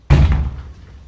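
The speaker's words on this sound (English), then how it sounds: "The fucking noises have been coming from this door." A single sharp door slam or heavy thud, close and loud, decaying quickly into a quiet room.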